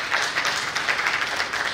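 An audience claps for three presenters at an IUCN gathering on nature-based drought solutions, a steady, dense patter of many hands with no break and no voices over it.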